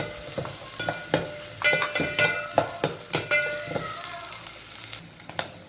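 Onions dropped into hot oil for a Telangana chukka kura (sorrel leaf) chutney sizzle loudly, with repeated sharp spatula clicks and scrapes against the pan in an uneven rhythm.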